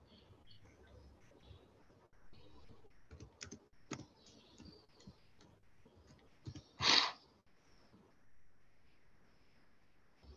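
Soft, scattered clicks of keys on a computer keyboard tap in short irregular bursts in a quiet room, with one loud noise near the middle and faint breathing.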